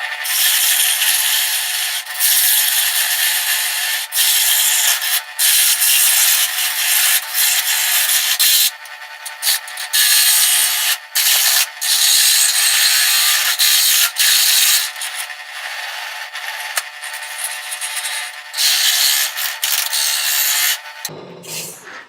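A wooden spinning top being shaped on a lathe, its bottom cut down before the spindle. Steady, loud scraping and rubbing of the tool against the turning wood runs almost throughout, with brief pauses, then stops abruptly near the end.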